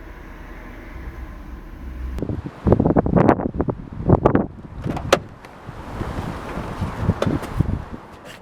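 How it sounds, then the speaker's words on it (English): Strong gusts buffet the microphone, giving loud, uneven rumbling bursts over a steady background hiss. "I remember this day it was very, very windy, so we kind of struggled to keep the audio sounding well"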